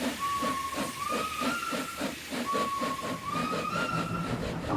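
A steam locomotive in the Roblox game Streamlined gets under way at full throttle: steady loud hiss and rhythmic chuffing, with a wavering steam whistle sounding twice in long drawn notes.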